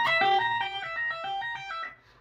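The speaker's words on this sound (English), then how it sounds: "the first lick we're going to learn is a single string diminished arpeggio lick that sounds like this" Electric guitar playing a fast single-string diminished arpeggio lick, a quick run of clear picked notes stepping through the pattern, close and moderately loud, ringing out at the end with no talking.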